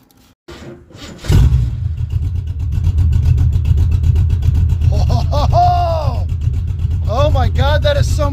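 Car engine started with its tailpipes removed and exhaust dumped, catching with a loud burst then settling into a deep, rumbling idle with two sharp revs near the end; voices talk over it.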